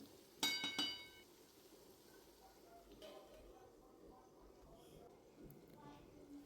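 A lid is set onto a pan of cooking pumpkin with a bright metallic clink and a brief rattle, followed by faint clatter and a quiet kitchen background.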